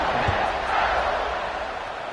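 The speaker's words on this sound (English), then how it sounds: "this crowd is buzzing after that last score" Dense football stadium crowd roars and buzzes steadily after a touchdown, a loud continuous wash of cheering voices with no pause.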